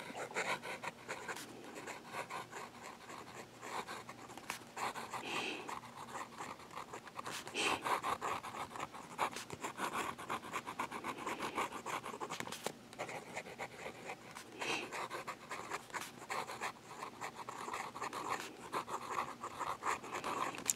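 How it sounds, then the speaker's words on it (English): A Platinum 3776 fountain pen with a 14K medium nib scratches softly across paper while writing in reverse, faint close strokes and pauses repeating steadily with no voices. "with a 14K medium nib in reverse writing"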